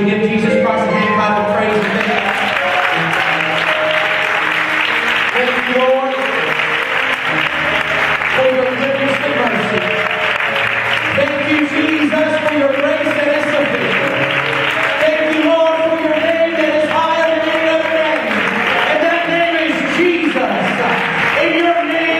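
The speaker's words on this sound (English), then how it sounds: "would you give Jesus Christ a hand clap" A church congregation at a Thursday service claps their hands in a continuous, loud ovation, with music and voices rising over the clapping throughout.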